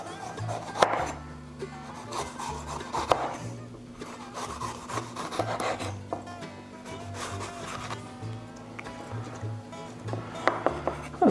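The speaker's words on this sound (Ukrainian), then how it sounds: "Давайте поріжемо перчик. Перчик нарізаю кольцями." A knife slicing a bell pepper into rings on a board, with irregular cuts and soft scraping, close and moderate in volume over a steady low hum.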